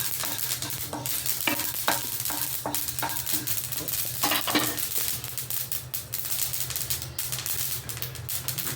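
Whole cardamom, cloves and cinnamon dry roasting in a pan, with a soft continuous hiss under repeated scraping and tapping as the spices are stirred and tossed close by.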